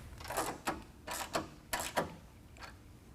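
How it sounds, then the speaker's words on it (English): A 13mm socket on a ratchet tightens fender flare bolts on a 2022 Jeep Wrangler, several short faint clicking bursts in uneven groups with pauses between them, no talking. "we'll be using a 13mm up top and also a 13mm socket on the bottom"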